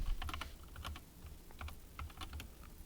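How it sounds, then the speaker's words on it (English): Script commands typed on a computer keyboard, a steady run of soft, close key clicks in quick irregular bursts with short pauses, quiet and alone without talk. "So we'll just type in some script commands."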